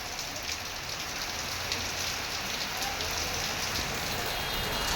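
Heavy rain falling outside a shop, a dense steady hiss of drops pattering on surfaces, loud and unbroken with no voices over it.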